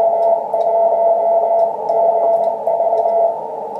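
Morse code call sign W1GV keyed as a steady radio sidetone, a clear single-pitch beep pulsing in short and long elements, loud and close with no talk.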